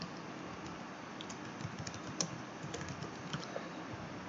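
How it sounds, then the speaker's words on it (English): Steady, fairly quiet typing of code on a computer keyboard while working in a Jupyter notebook, with a run of soft key clicks and a few slightly louder taps, no voices. "In editing mode, I can type my code here."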